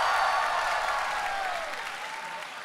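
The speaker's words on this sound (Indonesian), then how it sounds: "sekarang udah banyak yang tepuk tangan" Audience applauding at a stand-up comedy show, a steady dense wash of clapping that holds strong throughout and fades slightly toward the end.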